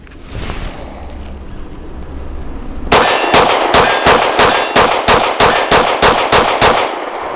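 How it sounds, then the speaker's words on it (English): A Taurus GX4 pistol fires a rapid string of about a dozen shots at steel targets outdoors in wind, each crack followed by a ringing metallic clang, after a few seconds of breezy quiet. "I am going to hammer at that steel as quickly as I can with my finger dangling in the wind."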